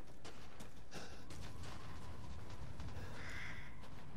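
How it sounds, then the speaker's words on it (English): Crows cawing in the horror game Resident Evil Village, several harsh calls at irregular intervals over a faint steady ambient background. "We got birds."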